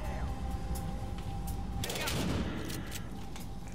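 A burst of gunfire from the video game Battlefield Hardline crackles in rapid succession midway through, over a constant low ambient rumble, with a voice speaking faintly in the background.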